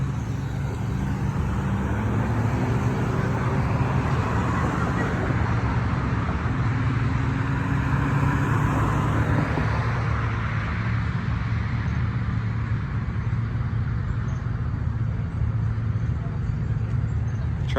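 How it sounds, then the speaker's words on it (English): A Hummer rolls past at a car meet in Coon Rapids, Minnesota, a steady low engine rumble and road noise holding evenly from nearby with general traffic around it. "Look at that Hummer. Whoa. It's a lady driving too. She's rolling."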